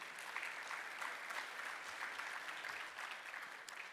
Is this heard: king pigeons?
no